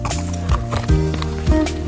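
Horse hooves clip-clop on a farm in a short, uneven series of three heavier thuds over a steady background of engine hum and noise, fairly close.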